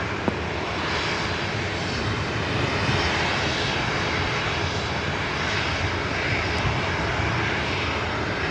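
A Southwest Airlines airplane departing from LAX, a loud, sustained engine roar holding steady throughout, near and unbroken by speech.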